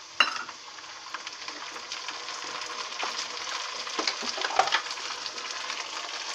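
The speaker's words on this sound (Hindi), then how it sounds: "अब इसमें हम मटर ऐड कर देंगे।" Onion and peas for a mixed vegetable curry fry in a pan with a steady close sizzle and occasional stirring scrapes, no voices.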